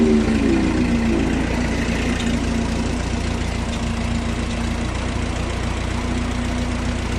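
A 1944 Ford 2N tractor engine idles steadily up close, a low chugging rumble with a slightly uneven beat from a miss at idle that continues without pause.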